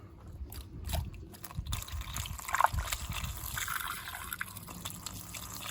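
Pink coolant is poured into a car's reservoir during a K11 Micra GA14 engine swap, making faint, irregular splashing and trickling with small gurgles and drips, close by and quiet.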